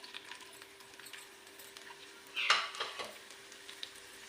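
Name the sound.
onion added to hot ghee in pan, sizzling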